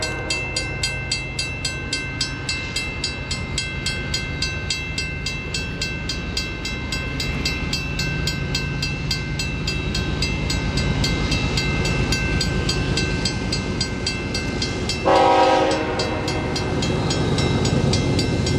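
Eastbound train passing at Fabro, caught mid-train: a steady, loud rumble of wagons rolling by with rhythmic wheel clatter, swelling slightly toward the end with a brief sharper screech.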